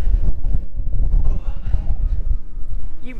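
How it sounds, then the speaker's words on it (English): Heavy low wind buffets the microphone in gusty, rumbling bursts throughout, loud and close. "It's a bit windy."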